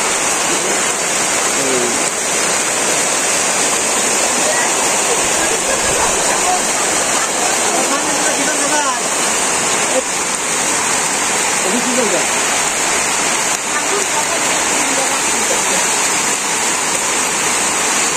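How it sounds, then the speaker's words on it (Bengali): Heavy rain pours steadily over a Bangladeshi village, a dense continuous hiss like falling water, with scattered voices talking faintly underneath. "বৃষ্টিও নামছে এই যে"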